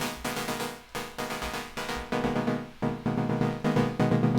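Sustained dub techno synth chords pulse in a steady, repeating pattern with deep bass underneath, loud and close, no voices.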